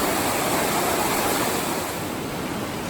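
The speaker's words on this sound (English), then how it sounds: "So a little bit of river crossing." A rushing river at a trail crossing on the Wonderland Trail near Mowich Lake, a loud, steady roar of fast water up close with no one speaking.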